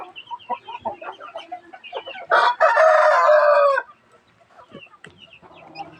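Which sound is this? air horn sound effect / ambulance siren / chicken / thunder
chicken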